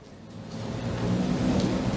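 Heavy rain pours steadily while a low rumble of thunder swells and rolls through a thunderstorm, growing louder over the short stretch with no voices.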